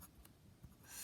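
Pen writing a label on a paper map, a quiet close scratching and rubbing of strokes over about a second, with no talk.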